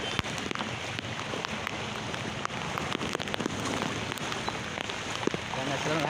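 Heavy rain falls in Chennai, a steady, dense roar of drops striking surfaces with scattered sharper splashes and ticks, continuing without pause and with no voices over it.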